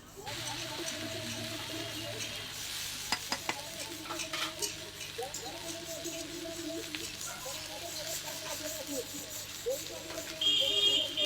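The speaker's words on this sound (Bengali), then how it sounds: "এই যে ভালো করে ভেজে নিলাম সবগুলো, আলু দিয়ে আলু, পেঁয়াজ" Potatoes and onions frying in a pan, heard as a continuous close sizzle with repeated stirring scrapes and a few sharp utensil clicks, while a person talks over it.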